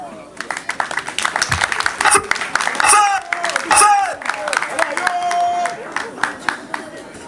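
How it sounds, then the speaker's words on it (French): An outdoor village festival crowd claps for the village chief, with irregular hand claps and scattered cheers. Speech and festive noise run underneath. "On va encore l'applaudir très fort"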